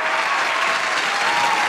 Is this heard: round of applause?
yes